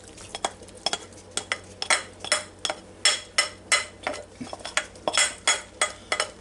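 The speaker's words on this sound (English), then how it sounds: "Now we'll dump this beef in there and the onions and those ingredients." Beef and onions go into a Ninja Foodi Deluxe pot on sauté and are stirred and scraped with a utensil, producing a rhythmic series of close metallic clinks and scrapes over a faint sizzle, with no talking.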